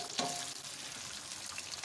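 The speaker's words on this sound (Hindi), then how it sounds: "तो हम ये आलू हमारे फ्राई हो जाए तो फिर हम आपको दिखाते हैं।" Potatoes fry in hot oil with a steady, crackling sizzle and a brief stirring scrape near the start, close and fairly quiet, no voices.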